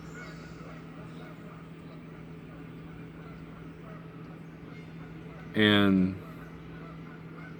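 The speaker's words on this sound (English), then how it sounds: "them geese are noisy" Geese honk in a loud burst of stacked calls partway through, standing out against steady outdoor background hum, with someone speaking briefly nearby.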